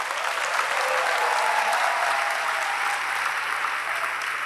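Steady, full audience applause fills a convocation hall at an orientation ceremony, continuous and even from start to end, with no voices over it.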